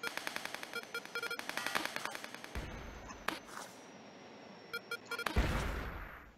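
Rapid bursts of gunfire from the online game Wings.io, several quick rattling volleys in the first seconds followed by sparser shots and short bursts, loud and close with no talking over them.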